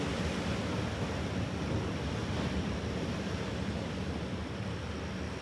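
Ocean surf roars steadily, a dense wash of breaking waves with wind noise and no voices, holding an even loudness throughout.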